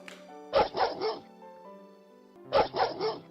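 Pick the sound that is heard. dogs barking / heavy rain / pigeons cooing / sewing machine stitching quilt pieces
dogs barking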